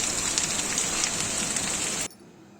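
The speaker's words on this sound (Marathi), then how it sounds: "आणि दुपारी मस्त असा पाऊस" Steady rain hisses on a surface, a dense even patter that stops abruptly near the end, leaving near silence.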